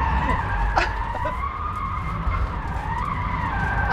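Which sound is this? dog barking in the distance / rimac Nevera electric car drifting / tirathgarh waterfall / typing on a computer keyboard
rimac Nevera electric car drifting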